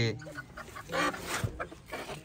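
Chickens cluck in short, busy bursts at close range, a brief flurry of hen calls with people talking over them.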